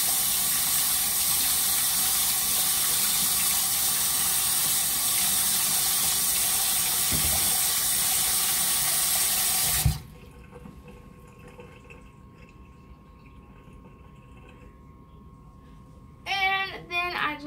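Tap water runs steadily into a sink for face washing, a loud, continuous hiss that stops abruptly around the ten-second mark. Quiet room tone follows, and a voice begins speaking at the very end.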